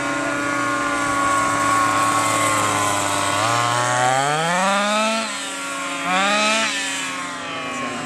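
An HPI Baja RC car's small gas engine runs steadily and loudly, then revs up and down in two sweeping rises and falls near the end, with no voices.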